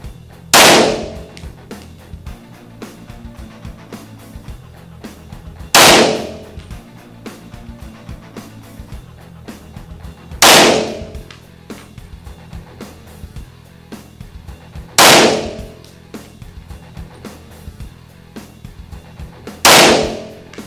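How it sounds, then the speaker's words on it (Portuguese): Five sharp pistol shots with training ammunition at 15 metres, evenly spaced about five seconds apart, each a loud crack with a short ring, over quiet background. "Foram 6 disparos, munição de treino"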